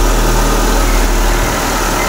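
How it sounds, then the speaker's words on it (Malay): Proton Waja car engine idling while warming up after fresh engine oil and gearbox oil, a steady close low rumble with even vibration and no pauses, heard alone without any talking. "Sekarang ni bagi running dulu."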